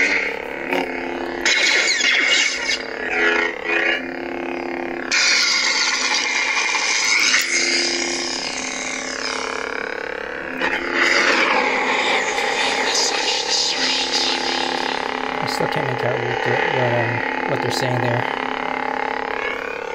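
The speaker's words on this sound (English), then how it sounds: "this is his latest sound font" Lightsaber sound font playing on a GCS Bane Legend Sith saber, a steady loud electronic hum with swelling swings and flaring clashes running throughout, without pause.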